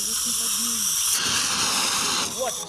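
Rescuers discharge a fire extinguisher during a hands-on training session, giving a loud, steady hiss that runs for nearly three seconds and briefly shifts in tone near the end, with faint voices underneath.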